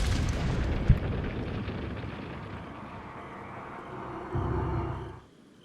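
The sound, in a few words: cannon firing and blasting open gate, Resident Evil 4 video game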